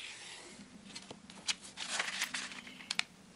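Colored origami paper folded along the diagonal for a paper turbine spinner: crisp rustling, a few sharp creases and crinkles, close and moderately quiet, with no voices.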